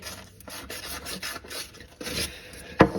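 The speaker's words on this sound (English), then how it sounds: "Sandpaper" Sandpaper rubs back and forth during sink and P-trap plumbing work, making a steady rasping scrape in repeated strokes, close and moderately loud, ending with a sharper knock.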